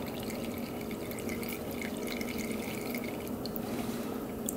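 Fluid drains steadily from an old Honda motorcycle that sat for 50 years, a continuous close trickling and dripping stream with no pauses.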